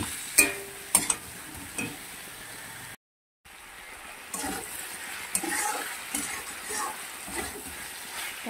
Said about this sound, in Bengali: 1 চামচ আমি আদা রসুনের পেস্ট দিয়ে দিলাম, দিয়ে ভালো করে মাংসের সঙ্গে কষাতে হবে।